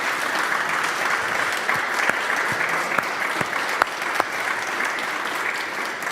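A forum audience bursts into loud, sustained applause after a talk by Canada's defence minister on defending democracies, a dense wash of clapping that fills the whole stretch evenly.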